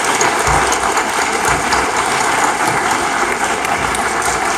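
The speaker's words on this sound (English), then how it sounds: "Let's give them a big round of applause." A graduation audience claps in a loud, continuous, dense round of applause that fills the room from start to finish.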